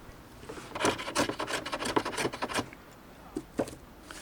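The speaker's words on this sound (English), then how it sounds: "I've just been polishing up the ends here to get them nicely shaped" Short rasping strokes of sanding or filing on the ends of wooden pieces for a leatherworker's stitching clamp, close and fairly quiet, in an irregular burst of rubs followed by a couple of isolated strokes.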